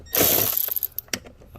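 Ratchet with an 8 millimeter socket clicking on the battery hold-down bracket of a Volvo S60, a short burst of metallic rattling followed by a few faint separate clicks.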